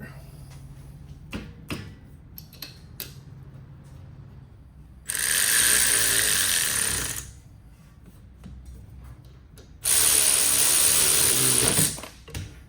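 A hand ratchet rapidly clicks in two bursts of about two seconds each, tightening bolts while a 2-inch lift kit goes onto a Jeep Compass, close and loud against quieter workshop handling noises in between.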